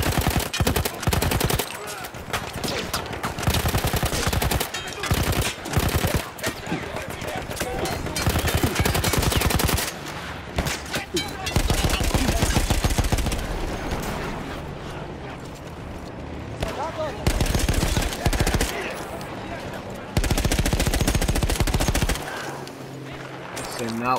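A mounted machine gun in the Battlefield 1 video game fires in repeated loud bursts, rapid rattling volleys separated by short pauses, with in-game combat noise around them.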